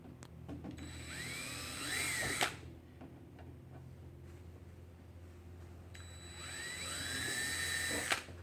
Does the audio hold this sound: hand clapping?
no